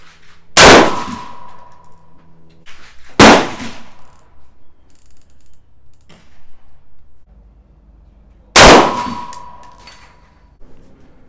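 Three loud rifle shots crack at a 25-yard range while a budget 6-24x50mm scope is being sighted in, spaced several seconds apart, each with a short ringing decay and quiet gaps between.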